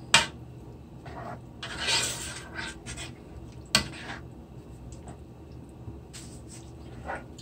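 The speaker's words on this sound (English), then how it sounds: "So stir this up." A spoon scrapes and rubs around a pot of spaghetti sauce with sausage and fresh mushrooms, in short uneven bursts of stirring with a few sharp knocks against the pot, heard close and without talk.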